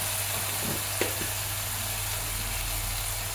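Prawns cooking in a pan give a steady, quiet sizzle with faint clinks, all under a constant low hum and without any talk.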